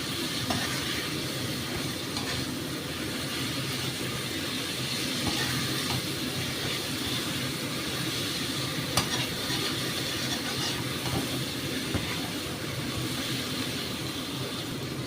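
Potatoes frying in a hot pan with spices, stirred now and then for a Bengali taro and prawn curry, giving a steady, moderate sizzle with soft scraping, no talking.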